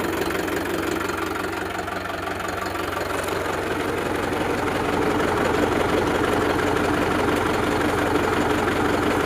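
A tractor engine runs steadily at idle with a constant low throb and knocking rattle, close and unchanging throughout.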